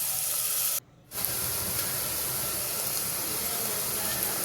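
Chopped onion frying in oil in a cooker gives a steady loud sizzle and hiss, broken by a short gap near the start, then continuing evenly.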